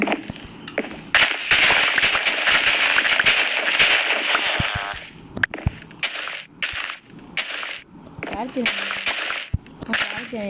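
Rapid bursts of crackling, popping explosions from Minecraft fireworks, coming in clustered volleys with short gaps between them, loud and close.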